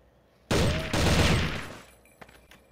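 A loud, close burst of rapid automatic gunfire sounds in the video game CrossFire. It lasts about a second and then trails off into fainter scattered shots.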